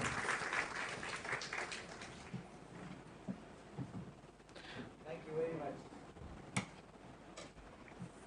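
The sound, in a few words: audience applause for a speaker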